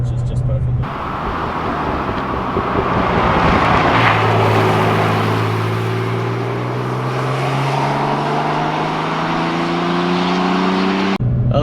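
A Porsche 911 Turbo drives on the road with a loud, steady engine drone and road roar from inside the cabin. The engine pitch climbs smoothly as the car accelerates through the middle of the run.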